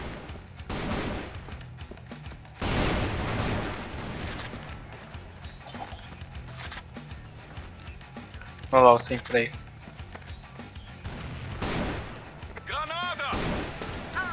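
Gunfire rings out in the online shooter game CrossFire: scattered bursts and single shots, some sharp and loud, others distant, under frequent excited talk from a player.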